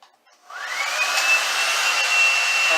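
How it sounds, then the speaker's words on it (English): A hair dryer switches on after a brief quiet moment and blows steadily with a smooth, whooshing whine, close and fairly loud. "I hold the hair dryer away from my eye,"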